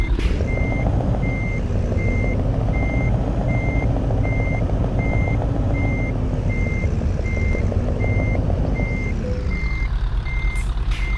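A Scania truck in Euro Truck Simulator 2 emits regular, evenly spaced reversing beeps over a steady engine drone while backing to hook a trailer, ending with a brief hiss.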